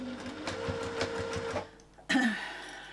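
A sewing machine runs a quick burst of basting stitches through layered quilt fabric, a rapid rhythmic mechanical rattle that stops, followed by a brief clunk.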